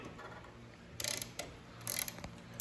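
A ratchet fitted with an E12 socket works a bolt loose on a Fiat 500 Abarth, giving a few short bursts of clicking separated by quiet gaps, near and fairly loud.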